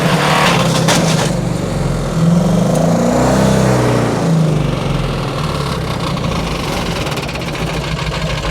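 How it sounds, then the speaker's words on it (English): A 6.0 Powerstroke diesel swapped into a Mustang, running rough on three or four cylinders, drones steadily on the rev limiter, loud and close with a knocking, stuttering undertone and no letup. "Today is day 31 of holding my Powerstroke Mustang on the limiter until I can afford a new motor."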